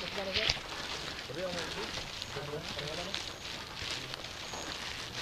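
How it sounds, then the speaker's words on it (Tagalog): Steady outdoor rain hiss runs throughout, with a person talking over it close by. "Still raining."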